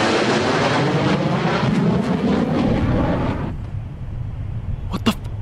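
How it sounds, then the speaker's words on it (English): A jet aircraft passes overhead as a loud, steady broadband roar that drops away sharply partway through, leaving faint outdoor background and a brief sharp noise near the end. "What kind of jet leaves no mark?"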